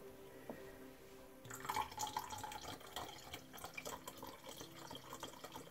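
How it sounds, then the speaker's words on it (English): Spring water splashes and trickles steadily from about the midpoint as it is poured into lemonade, a close, bright liquid rush after a quiet start, with faint clinks underneath. "now, after all of that, we're going to add some water."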